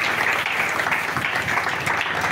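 A church congregation applauding during a French-language worship service, a steady dense wash of clapping that holds evenly for the whole stretch with no voices standing out.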